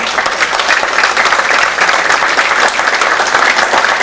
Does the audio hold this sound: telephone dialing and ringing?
no